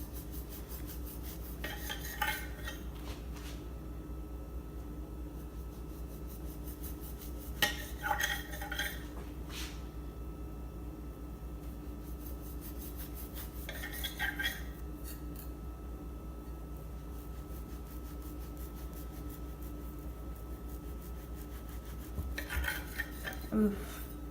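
Bread knife sawing through soft cinnamon roll dough: short rasping, scraping strokes come in separate bursts spaced several seconds apart over a low steady background hum, with no talking.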